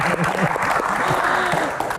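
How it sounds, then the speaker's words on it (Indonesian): A crowd applauds steadily, dense clapping filling the room, while voices talk and cheer over it. "Tepuk tangan Mbak Gian."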